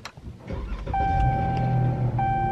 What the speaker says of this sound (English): All right, I'm gonna let y'all hear the roar of this V8 engine.